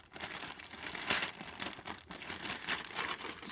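Crinkly plastic packaging of an AMT 1/1400 Enterprise-D model kit being peeled open by hand, a busy stream of rustles and crackles with a few sharper snaps. Close and fairly soft, with no talking.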